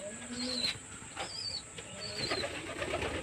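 Pigeons in a breeding loft give soft, low coos that rise and fall across the whole stretch. Faint higher chirps float above them, and a steady hum sits underneath.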